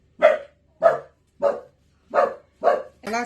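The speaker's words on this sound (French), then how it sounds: "Alors là, c'est le chien de garde à côté." A guard dog next door barks six times in a fairly even rhythm, each bark sharp and mid-pitched, heard clearly with quiet gaps between and no talking.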